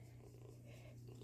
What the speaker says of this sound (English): hear the purring